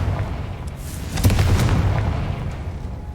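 A Confringo spell blast in Hogwarts Legacy lands as a deep, rumbling boom at about a second in. Heavy low-end energy then rolls on for the rest of the moment with no voices.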